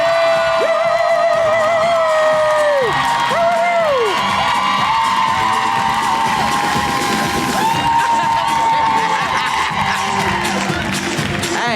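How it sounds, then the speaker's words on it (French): A packed live comedy show audience roars with loud, sustained cheering, whoops and applause, shouts rising and falling over a continuous dense crowd wash. "Faites un tonnerre d'applaudissements pour nos amis Christine Morancy et Christine Blais"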